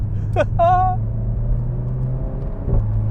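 Engine of a car chasing a Renault Megane RS 300 in race mode through tight track corners, a steady low drone throughout with someone talking over it.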